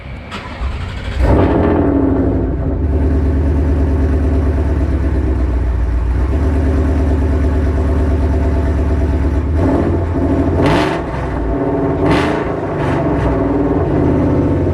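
A Ford engine with Cobra Jet exhaust manifolds and an MBRP cat-back exhaust cranks and starts, then idles loudly with a deep rumble before several sharp revs near the end.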